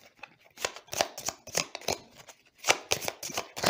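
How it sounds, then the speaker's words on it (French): Playing cards being shuffled during a humorous tarot reading, with quick rustling riffles and snaps in irregular bursts, close and fairly quiet, with no talk. "je vais encore mélanger les cartes"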